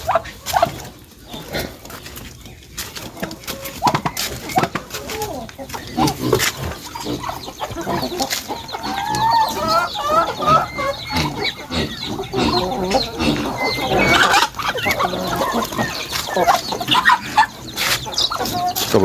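Breeder hens in a backyard poultry flock cluck repeatedly, close and moderately loud, with soft rustling and other birds in the background.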